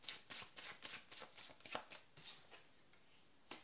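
Paper tarot cards riffled and shuffled in quick bursts, a rapid papery flutter repeating for a few seconds before slowing and fading, close by with no talk.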